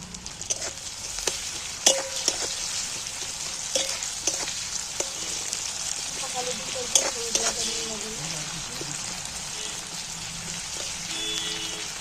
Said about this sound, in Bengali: পেঁয়াজটা নাড়াচাড়া করতে করতে লাল হয়ে গেছে।